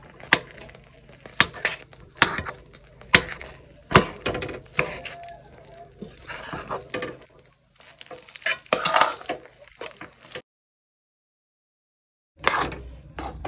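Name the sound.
stirring khuwa (milk solids) in a pan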